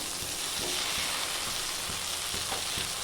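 Dried fish fries in oil as it turns crisp, making a steady, dense sizzle close up, with a few soft stirring taps underneath.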